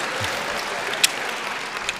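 Applause from a live crosstalk comedy audience, a soft steady wash of many clapping hands heard from a distance with no talk over it.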